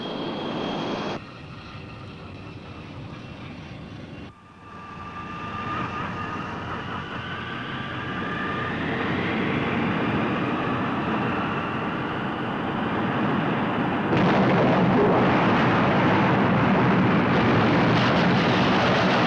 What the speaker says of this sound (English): Clear to takeoff.